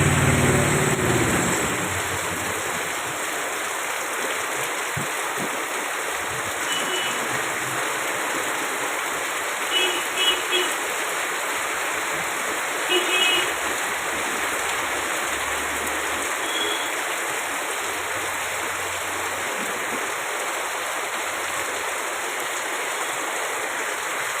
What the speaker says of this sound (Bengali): একটু বৃষ্টিটা স্লো হয়েছে